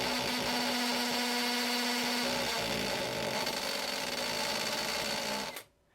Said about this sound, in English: This is a hammer drill set for hammering.